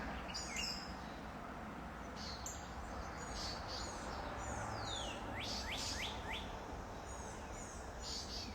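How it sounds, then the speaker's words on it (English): Several birds chirp and tweet on a spring morning outdoors, with quick repeated calls and downward-sweeping whistles of varying distance over a steady hiss of ambient noise and no talk. "Birds are just going off this morning."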